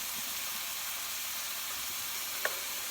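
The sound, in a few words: chicken sauteing in a hot pan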